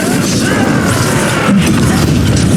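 A Confringo spell blast in Hogwarts Legacy lands as a loud, dense boom and crash, with sustained rumbling and crackling impact noise throughout and no speech.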